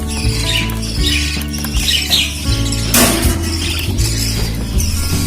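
Budgerigar chicks chirp in a coop. Thin, rapid squawks and tweets come from close by over a steady low hum, with a louder rustling burst partway through.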